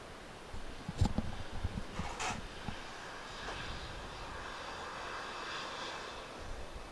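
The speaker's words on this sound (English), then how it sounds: "you may notice quite a significant increase in engine noise" At Manchester Airport, a fixed-wing aircraft engine gives off a faint, distant roar that rises slightly and hums steadily in the background, with a couple of brief knocks near the start.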